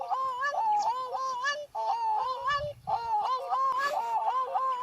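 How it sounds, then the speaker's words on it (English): Grey crowned cranes on an East African safari give repeated honking, goose-like calls in rhythmic bursts, fairly close and clear, with faint low rumbling beneath. "There we go, a grey crowned crane."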